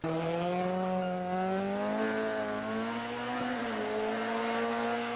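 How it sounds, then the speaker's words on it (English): A Ford RS2000 rally car engine holds a steady, buzzy tone that rises slightly in pitch as it revs, loud and continuous with no talking over it. "that's the RS2000, and you hear the general note of the the engine"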